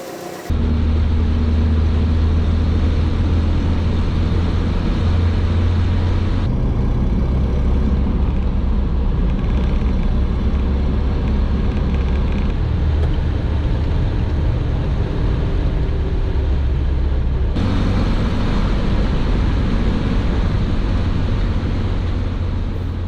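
A classic MG Midget sports car out on the road, its engine droning loud and steady with wind rush and shifts in engine note as it drives, with no talking.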